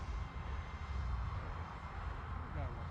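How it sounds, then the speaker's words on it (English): A ZOHD Dart 250G FPV wing, a small fast RC plane, buzzes past outdoors, its faint, steady electric motor whine sitting under low wind rumble and a soft voice. "Super fast little plane."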